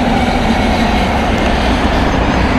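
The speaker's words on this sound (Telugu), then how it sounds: "మనకి ఇక్కడ ట్రైన్లు అయితే రెగ్యులర్ కంటిన్యూస్ ట్రైన్స్ అయితే వస్తూనే ఉంటాయి." A train runs fast along the Karimnagar to Warangal railway line, making a loud, unbroken rumble and roar close by with no pause for the whole stretch.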